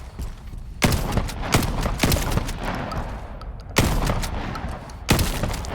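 Single gunshots at stationary targets in the shooter game Shatterline ring out in a spaced series, five sharp loud cracks over a steady low background rumble.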